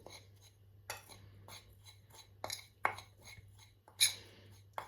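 Pork belly pieces tossed with spices in a bowl make soft, irregular clinks and scrapes, with a few sharper knocks against the bowl over a low steady hum.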